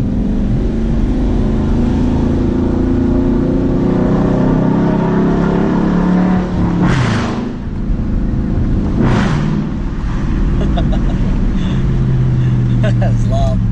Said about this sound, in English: We're in first gear. We're gonna make her pop real loud.